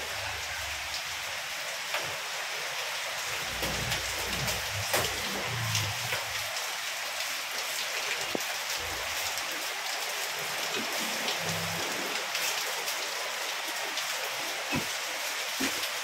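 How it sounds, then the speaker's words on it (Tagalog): Heavy rain pours down steadily, a dense, continuous hiss of drops hitting surfaces with no voices. "Hindi pa din po tumitigil yung ulan"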